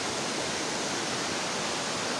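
A river rushes beneath a hanging bridge, a steady, loud, broadband wash of flowing water with no pauses, heard alone without voices.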